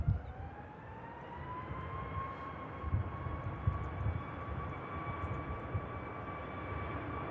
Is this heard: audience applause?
no